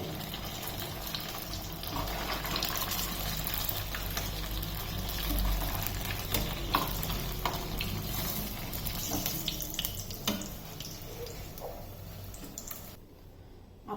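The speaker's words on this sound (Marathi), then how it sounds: "छान असे खमंग असे आपण हे तळून घ्यायचे आपल्याला पॅटीस अशा पद्धतीने" Chicken kheema patties deep-frying in hot oil, a steady broadband sizzle and crackle with occasional pops running unbroken close up, then dropping away near the end.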